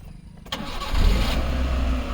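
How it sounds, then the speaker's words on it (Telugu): A 2019 Maruti Eeco five-seater petrol van cranks briefly and its engine catches, settling at once into a steady, close idle that runs to the end. "ఒకసారి ఇంజన్ కూడా స్టార్ట్ చేసి చూపిస్తా,"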